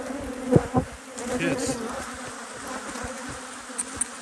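Honey bees buzz steadily around hives at an apiary, a continuous droning hum throughout, with someone talking briefly near the start and a few soft knocks over the buzz.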